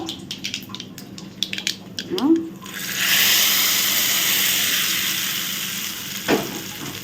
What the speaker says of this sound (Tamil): இப்போ நம்ம இதை வந்து அரைச்சி வச்சுருக்க சட்னியில் ஊற்றணும்டா